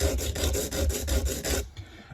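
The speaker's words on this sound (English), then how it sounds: "So I'm just going to flip that up out of the road, and then we're just gonna gently sand here." Rhythmic back-and-forth sanding strokes on a soft polished aluminum bumper for a 1/64-scale truck, about seven steady rasping passes close up, then a quieter pause at the end.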